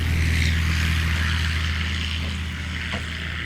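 Cessna 180 taildragger flying low with flaps down and tail raised during a STOL competition, a steady droning propeller engine that stays loud and even throughout.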